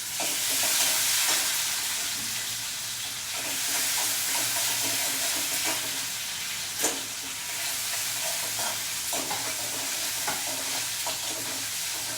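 Curry leaves and cumin sizzle steadily in hot oil in a pan, a continuous loud fry with occasional stirring scrapes and pops, no voices.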